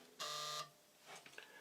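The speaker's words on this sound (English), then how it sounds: "sorry, my doorbell's ringing." A home doorbell gives one short electronic buzz-tone, bright and steady, followed by faint shuffling noise in a quiet room.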